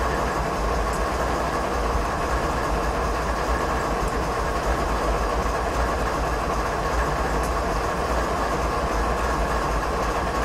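A small BNSF freight train rolls past in the Stevens Pass route of Train Simulator 2016, a loud, steady rumble of engine and wagons with faint rhythmic wheel clatter throughout.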